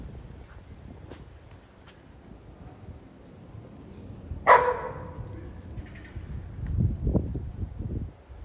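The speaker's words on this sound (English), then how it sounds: "first he barks loud," A dog barks once, loud and fairly close, among faint ambient noise and distant murmur on a walk near a zoo in Amsterdam.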